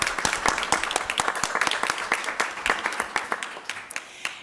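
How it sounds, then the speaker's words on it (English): Scattered applause at a school board meeting, a small group clapping in distinct, sharp claps that thin out and fade toward the end, close and without talk. "Let's give them another round of applause."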